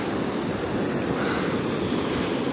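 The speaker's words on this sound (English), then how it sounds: "There you can see the Indian Ocean, how wild it is." Wild Indian Ocean surf at Palolem Beach in Goa, a continuous broad roar of waves with wind buffeting the microphone, loud and unbroken.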